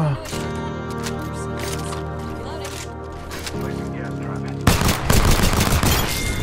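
Rapid video-game gunfire in a multiplayer shooter, dense bursts of shots over a music-like bed, growing louder and harsher near the end, with a player talking over it.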